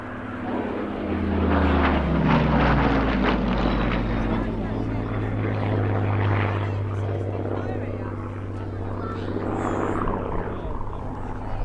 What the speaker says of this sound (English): the perfect backdrop of the elliptical wings of this beautiful Mark II Spitfire